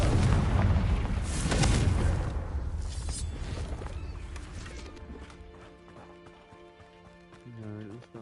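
A Confringo blasting spell explodes in the video game Hogwarts Legacy as a loud, booming fiery burst that rumbles for a couple of seconds, then fades beneath softer tonal game music.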